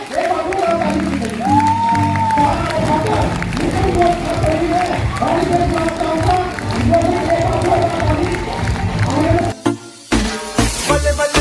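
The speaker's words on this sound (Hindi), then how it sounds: "आपकी एक बार जोरदार तालियों के साथ मिस्टर रवि सर और डीएसपी के लिए एक बार जोरदार ताली दीजिए" An audience at a large business seminar applauds and cheers as company directors are welcomed, crowd noise loud and continuous, mixed with a voice and music before a brief dip near the end.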